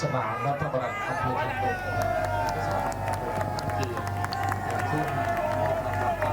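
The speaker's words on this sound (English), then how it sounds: "People are happy and cheering." A dense crowd at a fight event roars and cheers steadily throughout, with a continuous wash of voices and excitement, loud and close, with no clear individual speech.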